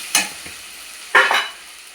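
Onion paste frying in hot oil for a fish curry, with two short bursts of sizzling and stirring, each quickly fading back to a quiet low crackle.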